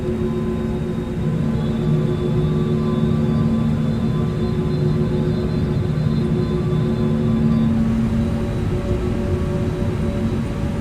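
Steady jet engine hum and rumble from an airliner on the ground in a VATSIM flight simulator, a continuous droning whine with low tonal bands running throughout, moderately loud and without speech.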